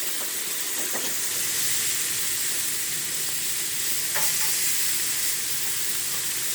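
Food grilling on a hot griddle in a home kitchen, a loud, continuous close sizzle and hiss with faint scraping, no talk.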